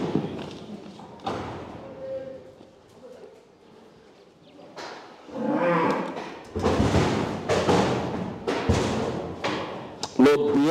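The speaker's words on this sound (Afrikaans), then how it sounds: "hier is 'n pakkie prentjie mooi koeie" Cows lowing at a livestock production auction, several moderate moos rising between stretches of auctioneer chatter and crowd noise, with thuds and shuffling from the sale ring.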